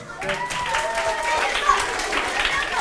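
An audience of schoolchildren applauding at a middle school drama performance, a dense continuous wash of clapping with voices and shouts running through it.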